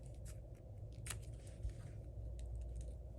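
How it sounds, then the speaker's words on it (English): Scissors trim a paper card for a stamped craft project, giving a few quiet, close snips and crisp cuts against a soft, low background hum. "Get our scissors, give this a trim."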